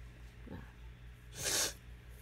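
A single quick sneeze, close and fairly faint, preceded by a short sniff-like breath, with quiet room noise around it.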